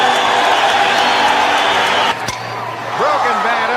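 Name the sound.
baseball stadium crowd cheering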